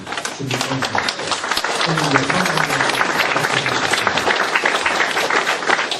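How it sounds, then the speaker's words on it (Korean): Sustained applause from an audience at a philosophy lecture forum fills the clip, dense and steady, with a few voices calling out underneath. "여러분 큰 박수로 환영해 주시기 바랍니다."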